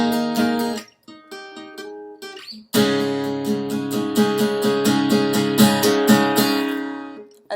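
An acoustic guitar strums the bridge of a song, starting with a few sparse plucked chords and short pauses, then building into fuller, continuous strumming, close and alone.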